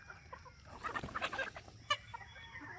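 Three-month-old gamefowl chickens at a farm give soft, scattered clucks, a few brief calls clustered in the middle with one sharper cluck near the end, fairly faint over a quiet background.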